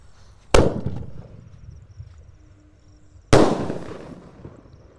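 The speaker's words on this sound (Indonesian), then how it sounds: "Dan ini Bima Sakti yang ukuran 4 inci yang lebih jumbo guys. Kita nyalakan juga." A 4-inch Bima Sakti firework is set off with two loud, sharp bangs about three seconds apart, each followed by a decaying rumble and crackle outdoors.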